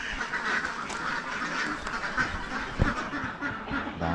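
Ducks quack repeatedly at a duck farm, a busy overlapping chorus of calls at moderate distance, with no one speaking.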